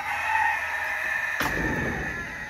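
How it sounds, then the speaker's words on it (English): A farm rooster crows once, clear and fairly close, with a long drawn-out call ending in a burst of noisier, rougher sound; no talking alongside. "We've got Mr. Rooster."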